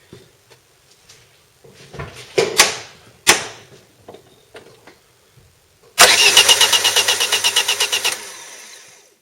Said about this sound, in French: l'essence va être pompée du bidon, va passer dans la pompe et va ressortir ici